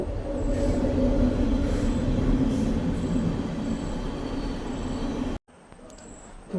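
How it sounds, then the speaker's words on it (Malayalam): A steady, heavy rumble of a train rolling past, close and continuous with a faint high squeal, cutting off abruptly near the end. "ഇടക്കിടക്ക് ട്രെയിനിൻ്റെ ശബ്ദമൊക്കെ കേൾക്കും കേട്ടോ"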